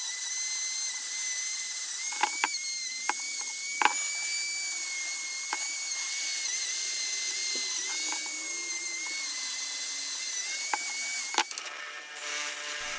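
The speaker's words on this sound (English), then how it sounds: "Now I'm cleaning around the jaws and the joint with the Dremel wire brushes." A Dremel rotary tool with a wire brush whirs steadily at close range while scrubbing the jaws and joint of rusty, dirty lineman's pliers, with scattered brief scraping bursts as the bristles catch the metal.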